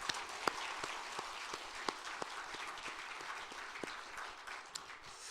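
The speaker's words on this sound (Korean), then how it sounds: "하나님께 영광의 박수를" Members of a Korean church congregation at a Bucheon worship service clap faintly and sparsely, with individual claps popping out at irregular intervals over a quiet room.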